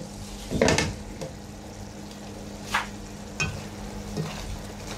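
Steady low sizzling of chicken frying in a pan for adobo, with a few clinks and scrapes of a utensil against the pan.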